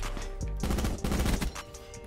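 Rapid automatic gunfire from a first-person shooter video game, a dense burst of close, loud shots that stops briefly and then resumes for a short second volley.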